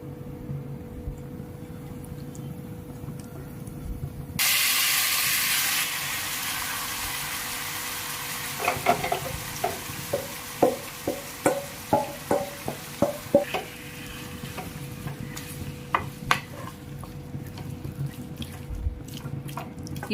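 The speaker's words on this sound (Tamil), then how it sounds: "இப்போ இது பொரிஞ்சதும் நம்ம மேரினேட் பண்ணி வச்சிருக்கிற சிக்கனை இதில் ஆட் பண்ணிக்கலாம்." Marinated chicken for a restaurant-style gravy drops into hot oil with a sudden loud hiss, then settles into a steady fry while a spoon clacks and scrapes against the pan in a series of sharp taps.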